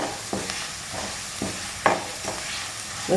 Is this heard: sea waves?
no